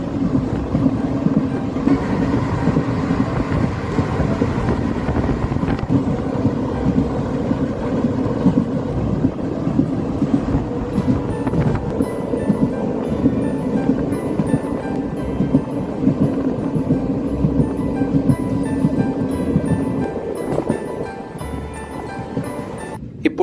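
A train runs steadily near Puthunagaram railway station in Palakkad, Kerala, heard as a continuous loud rumble and rattle that holds for the whole stretch and eases slightly at the end.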